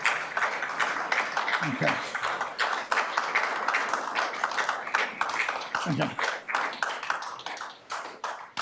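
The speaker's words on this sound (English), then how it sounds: "Thank you for the round of applause." Scattered clapping and light applause at a council meeting, sharp individual claps close by and fairly quiet overall, with brief spoken words mixed in.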